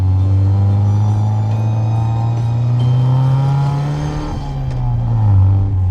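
A pre-war Aston Martin, a 50-year-old barn find, runs with a loud, steady engine drone that rises slightly in pitch and then eases off, heard alone and up close.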